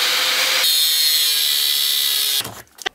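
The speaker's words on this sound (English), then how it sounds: "Now I can go ahead and grind away the welds" A power grinder cuts down welds on a custom forward controls mount for a Honda Grom motorcycle, a loud steady high whine running continuously for over two seconds before cutting off into a few brief clattering knocks.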